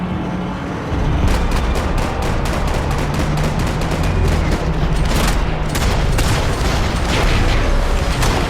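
Dense, loud gunfire in the Max Payne 3 video game, rapid overlapping shots and bursts over a continuous rumbling background, sustained without pause.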